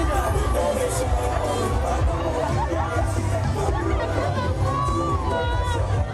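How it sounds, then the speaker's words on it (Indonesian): A large crowd scrambles for campaign T-shirts thrown by Jokowi along a main road to the Purwodadi town square, producing steady loud hubbub, chatter and scattered shouts and cheers throughout. "Momen berebut kaos seperti ini terus terjadi sepanjang jalan protokol hingga alun-alun Purwodadi sejauh 1 km lebih."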